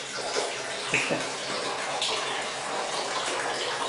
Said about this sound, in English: the manager's bathroom, which had the wonderful whirlpool tub